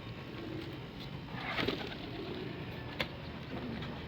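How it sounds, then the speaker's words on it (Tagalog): Pigeons cooing softly inside a loft, low murmuring calls with a brief louder flutter midway and a sharp knock near the end. "So, mga ibon natin oh."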